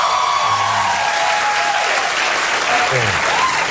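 Studio audience at a late-night American talk show bursting into loud, dense applause that holds steady throughout, with faint voices beneath the clapping.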